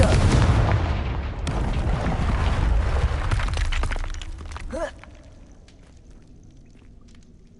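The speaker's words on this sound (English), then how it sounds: "Confringo!" Confringo fire spell explosions in Hogwarts Legacy, a loud sustained roar of blasts and crackling debris for several seconds that then cuts off and fades to a quiet hiss.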